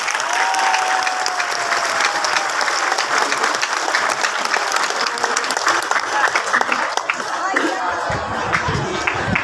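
A crowd claps for a visiting city mayor at a public gathering, dense continuous applause that thins out near the end, with faint murmuring and a brief tonal sound early on.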